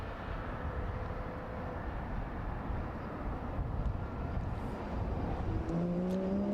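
Classic race cars at the start of a one-hour race at the Jarama circuit give a steady, distant engine drone over broad track ambience, with rising engine notes joining near the end.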